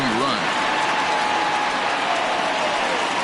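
A home baseball crowd applauds a departing starting pitcher, a steady wash of clapping and cheering holding at even volume throughout.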